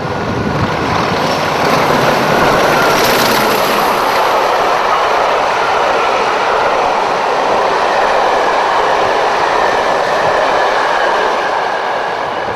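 Class 40 diesel locomotive number 145 roars past Abergele on a charter railtour, a loud, steady wash of engine and rolling wheel noise that holds close for the whole stretch without letting up.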